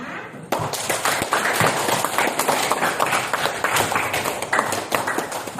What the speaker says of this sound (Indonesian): Kita beri aplaus kepada semuanya